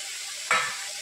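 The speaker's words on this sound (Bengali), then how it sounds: "এবার আমি চিংড়ি মাছটা মশলার মধ্যে দিয়ে দেবো।" Prawns hit a pan of well-cooked spice masala for a Bengali echor chingri curry: a low background sizzle breaks into a sudden loud hiss midway, then eases back down.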